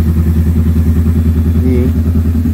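A small motorcycle engine on a test ride holds a loud, close, steady pulsing thrum with a rhythmic, slightly clattery beat. Speech is faint or absent.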